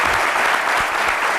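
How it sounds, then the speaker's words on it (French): A studio audience on a French midday TV show applauds a guest loudly, a dense, steady wash of many hands clapping close to the microphones. "On va l'applaudir très, très fort."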